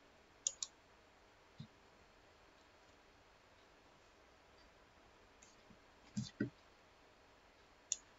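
Quiet, sharp computer mouse clicks come singly and in a quick cluster, spaced irregularly over a faint background hiss.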